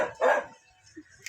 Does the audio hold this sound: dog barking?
yes